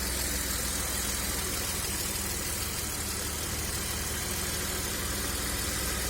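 A hot BMW E34 with an M50B25 engine without VANOS, at full operating temperature, runs steadily up close with a continuous mechanical clatter under the idle.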